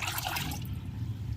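Aloe vera and eggshell powder being stirred into water for a homemade plant tonic, heard as a brief close liquid swish and slosh.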